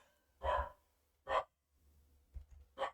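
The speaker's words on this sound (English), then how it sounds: "It's probably the mailman. Dog goes off." A dog barks four times, irregularly spaced and moderately close, with quiet gaps between the barks.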